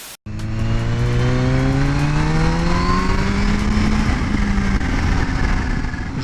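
A Kawasaki Z H2 supercharged motorcycle of about 200 hp revs up loud and close, its engine note rising steadily in pitch for several seconds after a sharp start.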